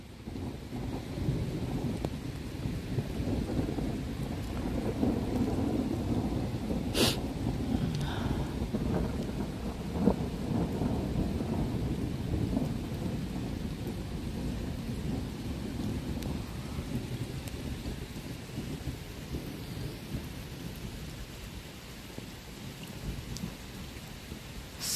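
A thunderstorm with steady heavy rain pours throughout, with rumbling thunder rolling in the low range and a few sharper cracks, continuous and fairly loud with no talking.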